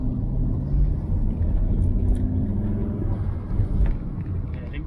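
Fiat Coupe 20V Turbo engine accelerating on the road, a steady low rumble heard from inside the car that swells slightly as it pulls, with no boost surge evident.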